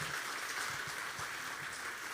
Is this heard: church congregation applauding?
yes